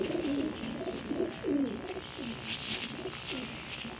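Teddy pigeons coo in a series of soft, rolling calls close by, repeating in a loose rhythm over a steady background hiss, with no one talking.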